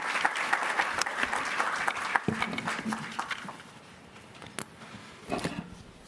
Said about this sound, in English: Can we clap for him, please?